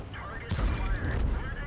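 Tank cannon fire in World of Tanks: one sharp, heavy shot bursts out loud near the middle of the clip, trailing into a rumbling decay over low game ambience.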